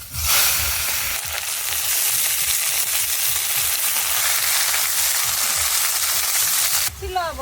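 Garlic, carrot, chopped onion, capsicum and chilli frying in a hot pan for street-style chicken chow mein: a loud, continuous sizzle close up with scraping stirs throughout.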